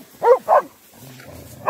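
Dogs confronting a bear outdoors give two quick, loud barks up close, followed by a low rumbling murmur and the start of another bark.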